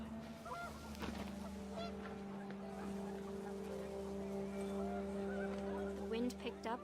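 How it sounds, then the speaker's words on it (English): Panicked geese honk in the video game What Remains of Edith Finch, as repeated nasal honks over a steady droning wind and hum that gusts louder toward the end. "The wind picked up, and panicked geese appeared and quickly went."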